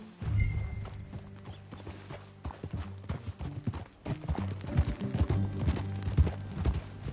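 In the video game Red Dead Redemption 2, a horse's hooves clip-clop in a steady galloping rhythm while riding, moderately close, with faint game ambience behind.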